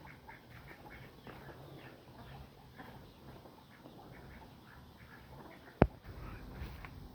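Ducks quacking outdoors in a faint, scattered series of calls over quiet background noise, with one sharp click near the end.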